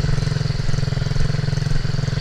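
Small MRF 80cc dirt bike engine held on the throttle, a steady buzzing two-stroke drone with pulsing rhythm, close and loud throughout.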